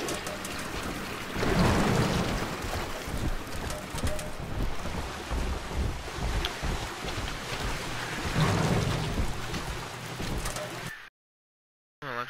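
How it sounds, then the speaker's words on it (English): Steady rain and rumbling storm noise from a thunderstorm in the video game Bioshock 2, a continuous dense wash with louder swells, cutting to brief silence near the end. "Storm."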